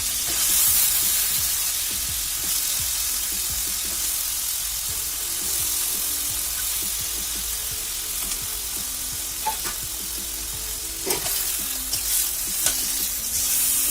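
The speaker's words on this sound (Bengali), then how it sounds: "মশলার সাথে মাংসটা আমি ভালোভাবে কষিয়ে নিই।" Cow head beef being fried and stirred with spices in a wok, a steady close sizzle with scraping stir strokes throughout and a few sharper clinks near the end.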